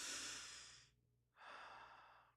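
A person takes a deep breath: a long, loud inhale fading out, a brief pause, then a second slow breath, close and clear with no talking.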